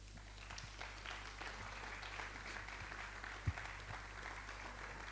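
Faint, steady clapping from a small audience at a book launch, a continuous patter with one sharper knock partway through, sitting over a low electrical hum.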